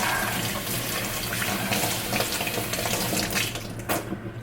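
Cold water runs from a kitchen tap in a steady, loud rush, continuous for several seconds before briefly changing and tapering near the end as the flow is disturbed.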